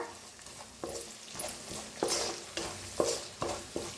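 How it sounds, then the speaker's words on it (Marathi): Ginger garlic paste for an egg curry sizzles in a pan while a spoon stirs it in repeated scraping strokes, roughly two per second, close and fairly loud over a continuous fry. "आता ह्याच्यातच टाकूया अद्रक लसूणचा पेस्ट 1 चमचाभर. आता याला चांगलं भाजून घेऊया."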